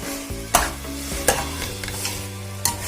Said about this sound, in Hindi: थोड़ा सा चावल को चला देते हैं, अच्छा भून लेते हैं।